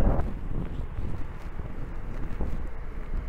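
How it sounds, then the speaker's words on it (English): Strong, cold wind buffets the microphone while riding a trike along a city cycling lane, a steady low rumbling roar with gusty swells and no voices. "it's a rather strong wind today and also quite cold"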